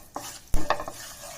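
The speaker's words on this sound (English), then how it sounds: "Let the oil get heated. Now add around 1 teaspoon of hing." Hing dropped into heated oil, a soft sizzle with a sharp clink of a utensil against the pan and brief stirring sounds, close and short.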